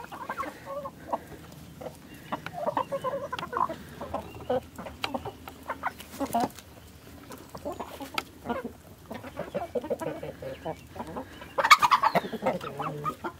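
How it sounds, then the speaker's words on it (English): Several hens cluck and murmur nearby in a steady, busy chatter, with one louder squawk near the end. "I just love the sound of chickens."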